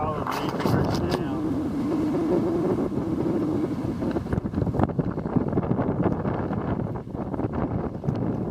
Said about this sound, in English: the wind just kept building